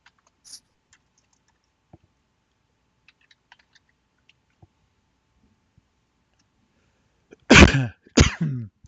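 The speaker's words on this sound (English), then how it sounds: "Let's sneeze into your headset as I fumble for the mute button." After several quiet seconds of faint clicks and small noises, a person sneezes sharply twice, close into a headset microphone.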